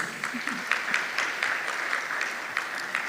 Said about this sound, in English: I thought we'll give him an applause.